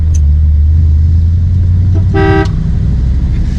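A single short horn toot from a 1950 Mercury coupe sounds close by over the steady low hum of its idling engine.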